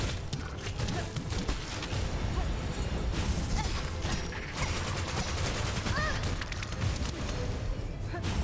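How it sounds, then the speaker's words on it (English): Explosions and combat blasts in the video game Silksong, dense and continuous crashing bursts filling the mix throughout, loud and busy with no clear pauses. "I don't like this exploding shit right there."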